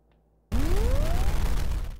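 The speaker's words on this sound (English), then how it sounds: "and if he is dead, it'll play the explosion sound." A platformer game's explosion sound effect bursts in after a short quiet moment: a loud, sustained, noisy rumble with a rising whoosh that holds for about a second and a half before fading.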